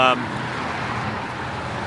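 Steady broadband road noise of cars on a snowy mountain road, continuous and fairly close, with no distinct individual pass-bys standing out.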